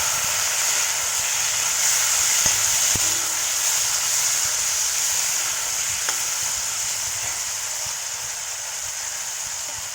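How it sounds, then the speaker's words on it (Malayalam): Chopped tomatoes and curry leaves sauté in a hot oiled pan for a Kerala okra-tomato buttermilk curry, making a loud, steady, close frying hiss that runs throughout, with a few faint taps from stirring. "ഞാൻ തക്കാളി അരിഞ്ഞതും കൂടെ അതിലേക്ക് ചേർത്ത് കൊടുത്ത് നന്നായിട്ടൊന്നൊരു 30 സെക്കൻഡ് വഴറ്റുക"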